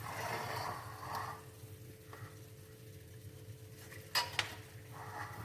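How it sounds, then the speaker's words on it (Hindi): White sauce macaroni pasta is spooned from the pan into a serving dish, soft scraping followed by a couple of sharp utensil clinks against the dish near the end, no voices. "अभी हम सर्व करने के लिए एक डिश में निकाल लेते हैं।"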